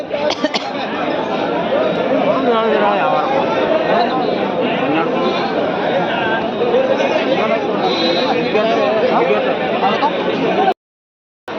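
Goats bleat repeatedly amid the steady chatter of a busy Mudhol livestock market crowd, calls overlapping and close, with people bargaining throughout.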